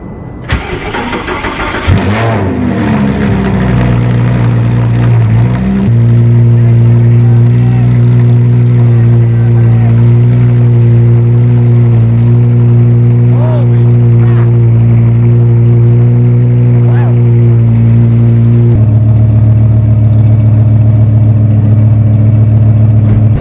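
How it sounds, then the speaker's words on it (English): A Lamborghini fires up from an extra-cold start with a loud starter crank and a sharp roar, then settles into a steady, booming high idle that drops lower near the end, close and unaccompanied by speech. "This is gonna be an extra cold start on the Lamborghini. It's gonna be loud."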